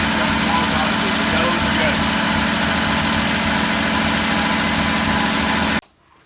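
An old motor engine running on choke, a loud, steady close-up drone with a rhythmic low throb that continues without change, then cuts off abruptly near the end.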